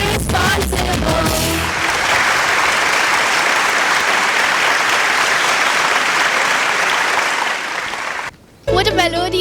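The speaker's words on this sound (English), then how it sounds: "Let us give a huge round of applause for the choir." A school assembly audience bursts into loud, sustained applause for the choir, a dense wash of clapping that cuts off abruptly near the end, with brief voices before and after.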